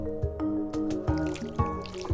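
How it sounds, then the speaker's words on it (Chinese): Liquid oil is poured onto marinated yellow croaker fish in a kitchen, heard close up as a run of wet drips and squishy trickles in irregular bursts. "这个时候我们要加入一种液态的油"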